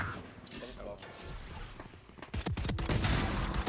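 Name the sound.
gunfire during a gun duel in a video game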